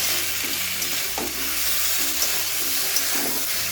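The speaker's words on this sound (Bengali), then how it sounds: "তার জন্য আবার কিছু সময় ধরে কষিয়ে নিচ্ছি" Ridge gourd and potato curry sautéing in a pan, with a constant bright sizzle and a few spatula scrapes and knocks as it is stirred, close up and without speech.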